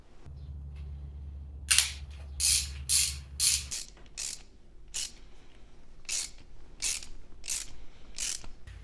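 Brake pipe flaring tool being screwed into place: a series of sharp ratcheting clicks in uneven bursts, close and distinct, after a brief low hum at the start.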